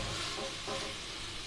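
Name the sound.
mixed red and green chilies stir-frying in pan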